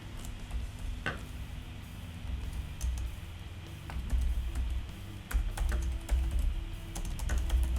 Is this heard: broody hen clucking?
no